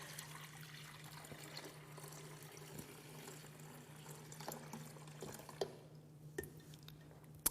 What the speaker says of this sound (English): So I'm going to fill it up with some nice cold water.